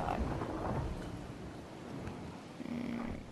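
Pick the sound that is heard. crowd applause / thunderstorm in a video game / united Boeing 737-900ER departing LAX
thunderstorm in a video game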